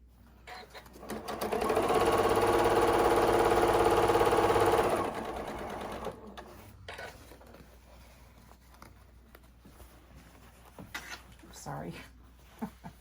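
A sewing machine stitches a seam on a fabric basket in a steady, loud whirring run of about three seconds, then stops, leaving quiet handling noises as someone talks.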